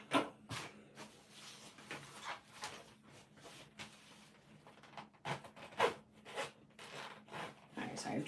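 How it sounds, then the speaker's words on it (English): A zipper is slid back and forth on a handmade quilted-fabric crescent bag, giving quiet, close rasping and rubbing strokes in irregular bursts with soft handling noise between them. "just making sure the zipper is moving"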